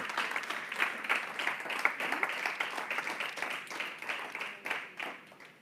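Congregation applauding in a church during a Sunday service, dense steady hand clapping from many people filling the room, moderately loud and continuous, with faint voices mixed in.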